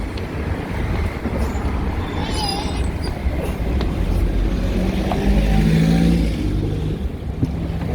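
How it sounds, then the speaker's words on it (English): Ambience on a train station platform in Swindon: a loud, continuous rumble of rail traffic and machinery, with faint squeals and clanks mixed through the steady noise. "And we are here in the train station. Train station in Swindon."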